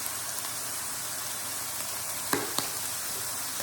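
Ground beef sizzles in a pan for baked ziti, a steady close hiss of frying broken by two light clinks as a spoon stirs the meat.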